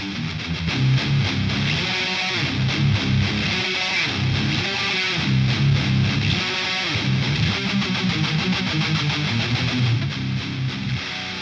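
Heavily distorted electric guitar through a Boss Katana amp plays dense, chugging death metal riffs in a Dual Rectifier-style tone, loud and continuous throughout with no pauses.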